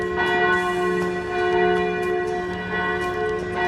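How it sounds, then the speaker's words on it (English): Church bells ring out continuously in Krakow, giving a rich, sustained tolling with repeated strikes over a ringing hum, fairly loud and heard alone. "we can hear the bells going"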